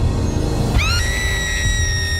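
A woman's high, rising scream breaks out suddenly partway through, held and wavering over a dense, loud dramatic background.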